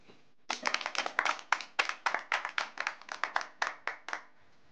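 An audience at a political party meeting claps in a burst of uneven, distinct handclaps that run a few seconds and fade, fairly faint and without talk.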